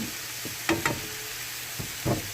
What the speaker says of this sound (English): you want to just keep stirring and keep cooking